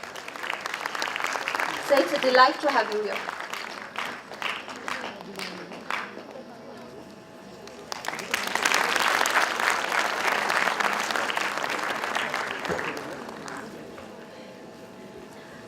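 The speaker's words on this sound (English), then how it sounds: "Please give a big round of applause." Audience applause at an international conference, a dense wash of clapping that swells after about eight seconds and fades near the end, with a host's voice speaking over the earlier part.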